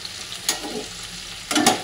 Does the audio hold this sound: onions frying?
yes